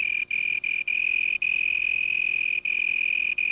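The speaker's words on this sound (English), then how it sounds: "To advertise for a mate, the male cricket has developed a system comparable to a loudspeaker" A male cricket chirping in the African night, a steady loud shrill trill broken by a few brief pauses, with faint background insects and no voices.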